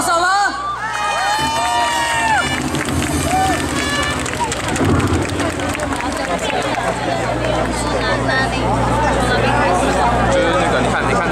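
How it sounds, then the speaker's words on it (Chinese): A huge crowd at a mass street rally on Ketagalan Boulevard cheers, whoops and shouts to welcome two singers. Loud, continuous babble and voices fill the whole stretch, with people talking throughout. "请大家用最热烈的掌声欢迎两位老师好吗"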